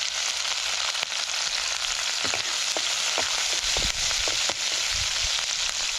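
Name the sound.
garlic and green chili frying in hot oil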